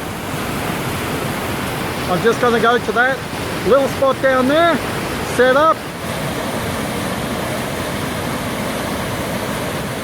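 A steady, broad rush of falling water fills the scene throughout, with someone speaking briefly over it in the middle.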